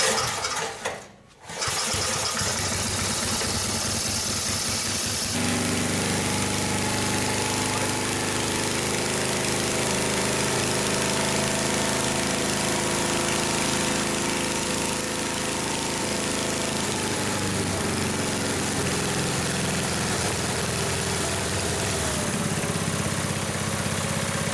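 A Briggs & Stratton small engine, just started with its recoil starter, runs steadily and loudly at close range, a continuous even drone with no talking over it.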